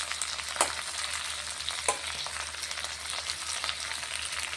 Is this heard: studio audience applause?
no